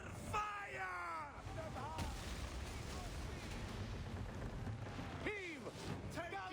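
Cannon fire from warships in an Assassin's Creed Origins naval battle: rumbling blasts and booming bursts roll beneath shouting voices and a continuous din of battle noise.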